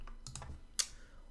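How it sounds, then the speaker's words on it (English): A handful of quick keystrokes on a computer keyboard, followed by one sharper key click, close and quiet with no talking. "I'm gonna go ahead and use my nifty keyboard, right? I'm gonna go ahead and type up a keyword."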